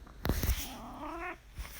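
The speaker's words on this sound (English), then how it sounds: "That's my cat agreeing" A single drawn-out meow from a pet cat, rising then holding steady for about a second, close and clear in a quiet room, with a couple of soft thumps around it.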